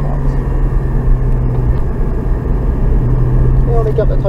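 A Porsche Cayman GT4 on a race track gives a steady, loud, close engine drone from inside the cabin while a voice talks over it.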